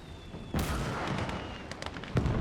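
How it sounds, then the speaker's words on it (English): Tank cannon fire in a World War II tank video game: a sharp nearby blast then another heavy boom a moment later, over a steady rumble of engine and battle noise. "you're shooting at your own tanks there, mate"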